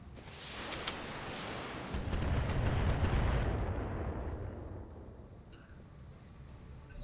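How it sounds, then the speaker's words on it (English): Missiles and weapons fire in the mech combat game Battletech: dense, rumbling barrage of blasts and crackling impacts that swells in the middle then slowly fades, with a few sharp cracks early on, no talk. "There are a lot of missiles flying around in here"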